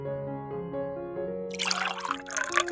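Vinegar is poured into a bowl of egg, salt and ice-cold water for quick puff pastry dough for a Napoleon cake, a splashing liquid pour starting midway and continuing over steady background music.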